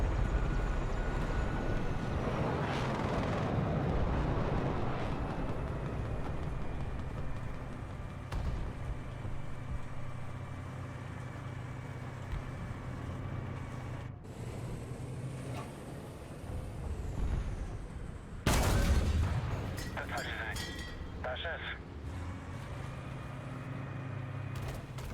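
A Char 25T tank with an autoloader fires in a video game. A steady engine rumble runs under the action, broken near the end by a loud, sharp gunshot burst.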